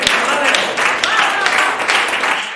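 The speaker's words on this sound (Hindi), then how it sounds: "जोरदार तालियां बजाकर" An audience at a wedding gathering bursts into loud, dense applause, a continuous wash of clapping with a few sharper claps standing out and a voice briefly audible underneath.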